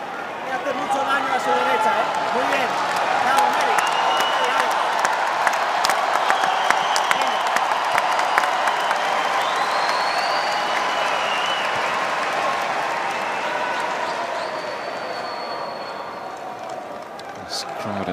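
A large tennis crowd at Arthur Ashe Stadium during a US Open night match applauds and cheers in a sustained roar, with a commentator talking over the noise throughout.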